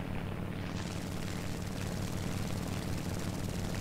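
A US Navy F4F fighter's piston engine in War Thunder arcade battle, a steady droning roar that holds at an even moderate level for a few seconds as the plane makes a pass over a runway.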